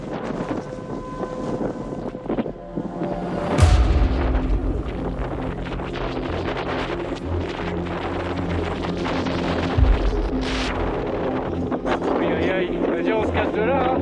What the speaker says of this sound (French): Le blizzard incessant ne nous laisse aucun répit.